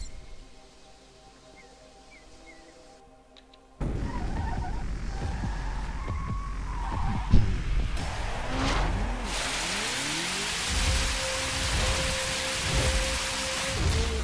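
Rain pours in the racing video game The Crew, a quiet patch giving way to a sudden steady hiss of heavy rainfall with rumbling thunder and car engine and tire sounds underneath.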